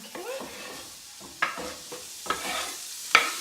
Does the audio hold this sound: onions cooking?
yes